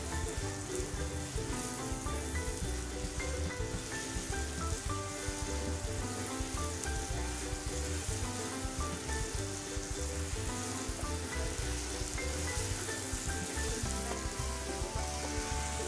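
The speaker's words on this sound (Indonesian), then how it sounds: "Panaskan minyak, kita tumis bumbu halus." Ground spice paste for soto Betawi sautéing in hot oil, a steady close sizzle and crackle running throughout under background music.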